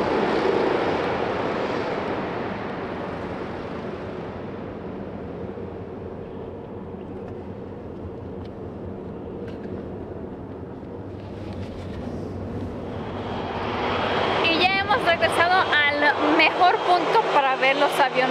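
Aircraft engine noise from an airplane taking off or landing, a broad steady roar that rises and grows louder toward the end, heard amid outdoor ambience and background voices.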